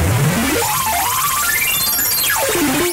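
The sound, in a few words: extreme synth arpeggio from Camel Audio Alchemy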